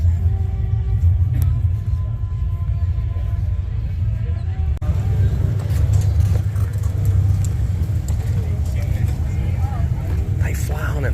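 A Dodge Charger muscle car at a Daytona car show gives off a steady, loud, deep engine rumble close by, with voices talking over it throughout.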